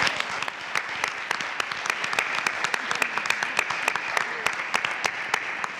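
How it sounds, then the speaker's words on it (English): A panel audience at a social justice think tank forum gives the panelists a round of applause. Many hands clap in a dense, sustained crackle, close and loud, steady for about six seconds. "Let's give our panelists another round of applause."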